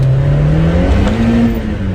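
A 1994 Lotus Esprit S4's 2.2-liter turbocharged, intercooled four-cylinder pulls hard under acceleration, its loud, close engine note climbing steadily in pitch for two seconds without a break.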